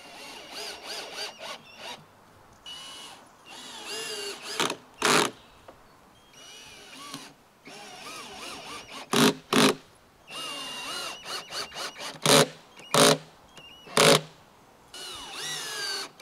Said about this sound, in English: Now we can drive in the screws.